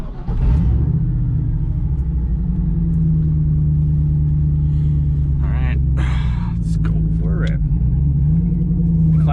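A V8-swapped Volvo running Holley Terminator X engine management, with a welded differential, is driven around the block. Its loud, close, steady low engine drone holds throughout, with brief faint voice sounds partway through.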